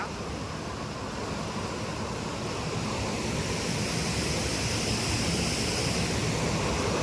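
Water pours steadily over the Thondamanadu pond waterfall near Tirupati, a constant broadband rush with no breaks, unchanging in loudness across the clip and heard alone without talk.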